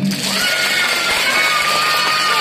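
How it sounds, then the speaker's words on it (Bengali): An audience at a school magic show breaks into applause, a dense, loud wash of clapping with crowd noise that holds steady throughout. "জোর হাততালি দিন"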